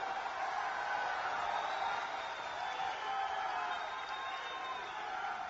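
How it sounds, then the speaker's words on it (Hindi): A political rally crowd in Ambikapur, Chhattisgarh applauds and cheers in a steady, distant wash of clapping that holds evenly throughout, with no clear voice above it. "प्यार तालियों के साथ स्वागत कीजिए, जोरदार तालियों के साथ।"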